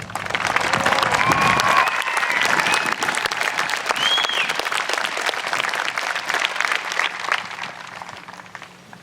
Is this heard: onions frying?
no